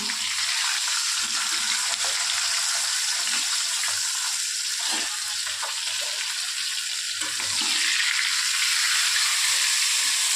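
A katla fish head fries in hot oil in a covered pan, giving a loud, continuous hissing sizzle that stays steady throughout with no speech.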